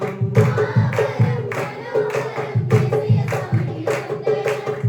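A group clapping along in rhythm while singing a hymn at a novena service, with regular sharp claps under the sung voices.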